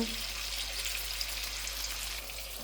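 Tomatoes fry in a pan with a steady, close hiss of sizzling oil that holds evenly throughout with no break.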